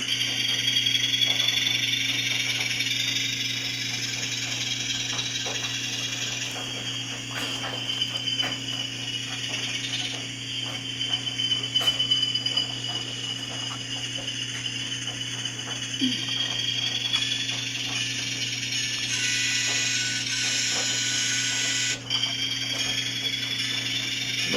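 Atlas Classic RS3 model diesel locomotive fitted with a DCC decoder, running in reverse on the layout, giving a steady mechanical motor whir and gear hum with a constant low drone throughout, close by and alone.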